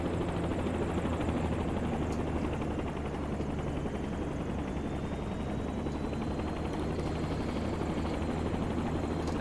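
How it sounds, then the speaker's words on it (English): A helicopter running steadily after its engine is restarted in flight during a training lesson, a continuous loud rotor and turbine drone with a low rhythmic thump, close and unbroken throughout, with no talk over it. "One restarted helicopter."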